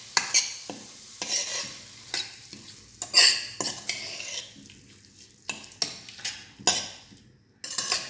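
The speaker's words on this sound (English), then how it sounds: "Now add 1 teaspoon salt and saute it well." Onions and tomatoes with salt stirred in a pan: a faint background sizzle broken by repeated scraping strokes of a spoon against the metal, irregular and fairly close, with no talking.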